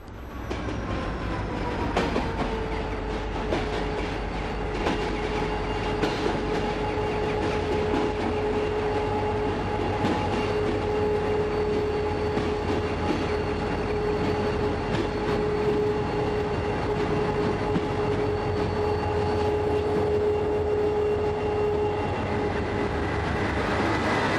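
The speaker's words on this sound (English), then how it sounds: "the radio train arrives at a deserted-looking station" A train in Ireland rumbles into a station with a sustained squealing tone from its wheels and brakes, slowing steadily over a low mechanical drone; nobody speaks.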